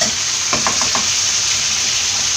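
Jackfruit seeds stir-frying in a pan, Kerala style, hiss in a steady, close sizzle, with a few quick scraping taps from stirring early on.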